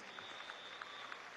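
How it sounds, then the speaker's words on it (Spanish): Faint, distant audience applause at a political gathering: a steady, soft patter of many hands with a few slightly louder claps, lasting only a moment. "Vamos a dar un aplauso a José Vicente Rangel, querido maestro."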